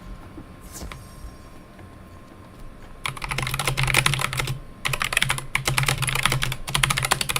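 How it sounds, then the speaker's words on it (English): Rapid computer keyboard typing starts after a few quiet seconds, loud and close, a dense clatter of keystrokes in bursts with brief pauses between them. "The typing is so loud, my fault."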